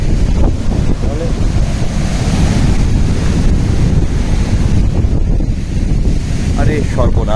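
Sea waves wash up onto the shore at Digha beach, a continuous, close roar of surf and spray blended with heavy wind buffeting, with faint voices briefly underneath.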